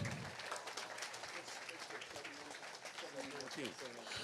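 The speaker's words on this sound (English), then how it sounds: "Big round of applause for these young men." Audience at a fishing tournament weigh-in clapping in a steady burst of applause, with a voice speaking over it near the end.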